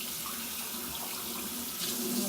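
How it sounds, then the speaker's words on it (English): Tap water runs steadily over soapy hands being washed at a sink, a brief, even hiss of flowing water with no voices. "Quickly wash your hands with soap and rinse."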